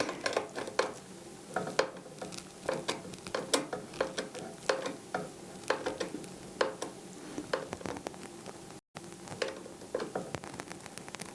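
Small screws being tightened during a desktop computer build, heard as a long series of faint ticking clicks and metallic taps from a screwdriver, irregular and close.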